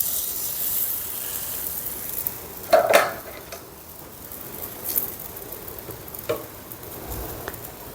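An oiled wheat paratha sizzles softly on a hot tawa, a faint steady crackle with a few light clinks and taps of a utensil against the pan, close by and with no talking.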